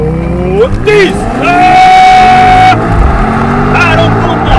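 A BMW XM 4.4 V8 plug-in hybrid launching hard from a brake-torque start, its engine note rising through steady revs in a loud, close run with someone shouting over it.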